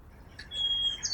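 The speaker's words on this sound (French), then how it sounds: "Une aubaine pour les bruants à couronne blanche." A white-crowned sparrow sings a short, thin, high whistle with a brief buzzy note, faint and somewhat distant over quiet low background noise.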